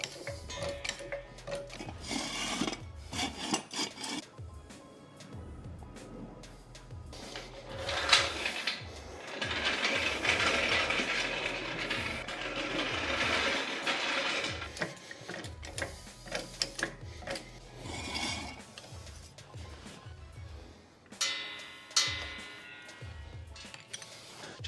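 A car jack raises a 2022 Subaru BRZ with repeated mechanical ratcheting clicks in a steady rhythm, close and moderately loud, with pauses and some clunks between strokes.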